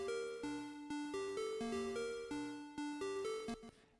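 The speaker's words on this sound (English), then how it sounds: "a quite simple square wave that sounds like this" A simple square wave synthesizer tone from Ableton's Wavetable synth plays a stepped sequence of sustained, buzzy notes that shift pitch every half second or so. It is steady and clear, with no voices.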